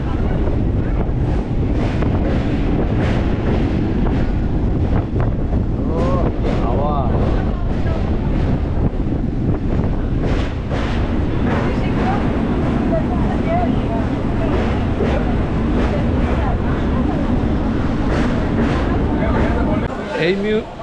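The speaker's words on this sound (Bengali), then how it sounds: "এই রূপনারায়ণ নদীর এই পাশ থেকে হাওয়া বইছে" Strong wind beside the Rupnarayan river buffets the microphone with a loud, continuous low roar and rumble that lasts the whole stretch without letting up.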